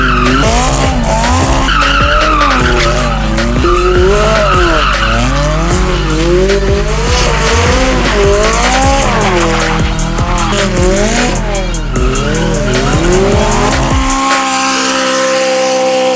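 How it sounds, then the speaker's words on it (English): An 800HP McLaren does a burnout on bald tires, a loud, continuous tire screech that wavers in pitch over the roaring engine for about fourteen seconds, then drops away to quiet. "Time to roast the old tires."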